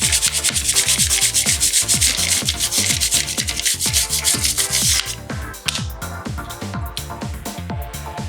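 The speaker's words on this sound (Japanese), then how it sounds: "こちらのブラシで洗っていきます。" Stiff brush scrubbing a motorcycle chain coated in chain degreaser, a fast steady back-and-forth rhythm of loud close bristle strokes that softens slightly partway through.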